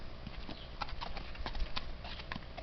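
Horse hooves clip-clop in a quick, even rhythm of close, distinct strikes on hard ground, with no talk.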